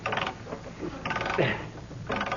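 Old hand brace and bit boring into wood, a staged radio sound effect: repeated grinding, ratcheting bursts in three close, loud passes separated by brief pauses, with no talk over it.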